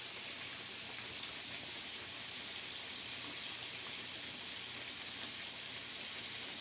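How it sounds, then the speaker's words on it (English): Meat frying in a cast iron skillet gives a steady, even sizzle with a constant bright hiss and no voices. "we're just going to let this fry. and brown."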